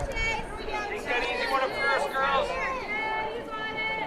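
A big-time fan cheers on a girls varsity softball team from the stands, his voice rising in bursts over a steady murmur of crowd chatter at the game.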